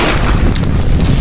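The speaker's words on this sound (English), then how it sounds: "Alright, I'm gonna use the AK." An AK rifle shot blasting voxel structures apart in the destruction game Teardown, a loud continuous booming burst filling the whole short moment.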